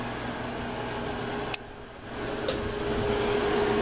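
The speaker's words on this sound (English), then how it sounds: "Sorry about the AC, but it's hot here in Florida." A home air conditioner in Florida runs steadily as a broad, constant hum with a low drone, with a couple of brief faint clicks partway through.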